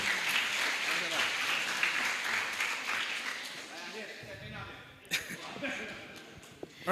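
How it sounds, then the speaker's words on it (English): Applause from a Model United Nations conference audience for the USA delegation, a dense steady clatter of many hands that thins out toward the end, followed by a few scattered sharp claps and knocks. "Once again, give a round of applause to"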